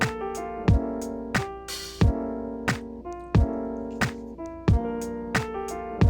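Café jazz loop on a K.O. sampler, two patterns chained back to back: punchy kick-like thumps on a steady beat under sustained chords and light percussive ticks, played alone at moderate level.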